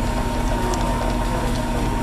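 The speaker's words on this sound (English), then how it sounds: "Turn the cutters till they're barely touching the rotor. Making that sound." Brake lathe cutters barely touching a spinning fixed rotor make a continuous, loud, close grinding hum with a steady metallic whine and no pauses.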